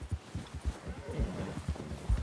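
Horses walk at a steady pace, their hooves clip-clopping in a regular, fairly close rhythm of distinct thuds with no talking.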